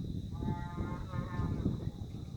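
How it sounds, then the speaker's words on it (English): A cow moos faintly from a hillside some way off, one of a few cattle grazing up the slope, over quiet outdoor ambience. "there's a cow mooing in the background there"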